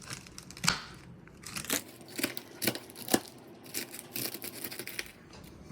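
Repeated crunchy chopping of cooked bacon with a knife into small pieces, irregular quick strokes close by, crackling and crumbling against a quiet background.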